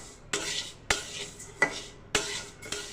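Chicken skin and mung dal are stirred in a pot over low heat, five brisk scraping strokes of a utensil against metal spaced about half a second apart, close and quiet over a faint sizzle.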